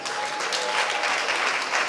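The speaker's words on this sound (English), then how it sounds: "So can we please give them a round of applause?" An audience at a UK Congolese youth award ceremony applauds the event organising team, a dense steady burst of clapping from a full room.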